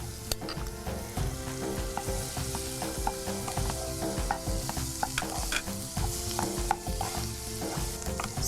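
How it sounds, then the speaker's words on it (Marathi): Chopped tomatoes are stirred into a frying garam masala base in a pan, with constant loud sizzling and repeated scraping spoon strokes and light clinks over faint background music. "लगेच आपल्याला टोमॅटो मिक्स करायचे दोन टोमॅटो आहेत चिरून घेतलेले ते सगळे मिक्स करायचे"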